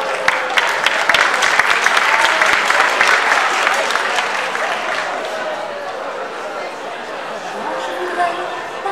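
Loud applause from an audience for a young girl performing as Ariel at a stage show, dense clapping at first that gradually thins and softens, with crowd chatter mixed in.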